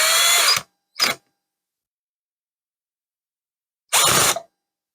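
A power drill drives screws into a stand mixer under repair: a loud whirring burst, a short second spin, a pause of nearly three seconds, then a third burst, all with no talk.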